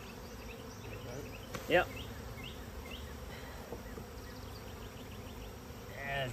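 Honey bees buzz around comb with brood in a disturbed hive box, a busy, fairly close swarm hum with individual bees droning past. A brief knock sounds and people speak a few short words.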